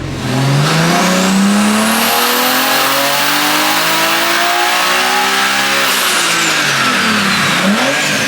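A turbocharged car engine, recently swapped to a manual gearbox, revs loudly and continuously, its pitch climbing and dropping as the turbo whistles high above, heard close from inside the car.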